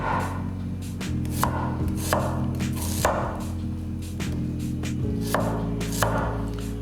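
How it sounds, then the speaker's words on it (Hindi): A knife roughly chops peeled onions into simple dice on a board, with sharp regular knocks about twice a second over a steady low hum. "ये छिले हुए प्याज है, मैं इनको सिंपल डीज में काट रहा हूँ"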